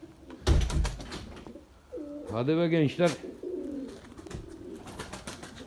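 Pigeons cooing in the rain, with soft repeated coos and wing sounds close by, while a man calls out briefly over them.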